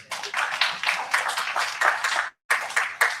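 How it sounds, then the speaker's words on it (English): Clapping at a GCU election results announcement comes in uneven bursts from a modest group of people, with a brief silent gap near the end before the clapping resumes. "Again, another round of applause for KNAT."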